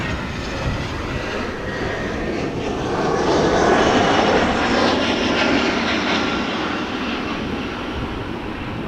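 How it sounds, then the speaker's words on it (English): A KLM Boeing 737 touches down at Amsterdam Schiphol, inbound from Paris, with a steady, loud jet roar that swells slightly through the middle and holds broadband engine noise throughout, with no voices. "a 737 from KLM arriving from Paris Charles de Gaulle is almost"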